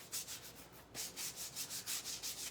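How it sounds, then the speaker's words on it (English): Surf Prep abrasive pads sand a leather purse in quick, even back-and-forth strokes, each pass a soft hiss. The strokes are close and fairly quiet, with no voices. "I like to use Surf Prep brad pads to distress the purse with"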